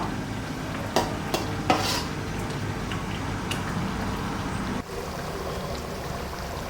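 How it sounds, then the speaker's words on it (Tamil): Paneer kurma curry bubbling in a pan while being stirred, a steady soft simmer with a few sharp scraping knocks early on, close and without voices. "குழம்பு நல்லா கொச்சிடுது"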